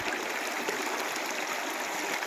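A river near Honeycomb Caves and the Alum Cliffs flows steadily, a close, even rushing and trickling wash of water with no pauses.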